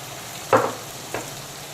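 Ginger, garlic and dried red chili paste dropped into hot oil for a spicy fish curry, giving a sudden loud sizzle that fades, then a second shorter burst of frying.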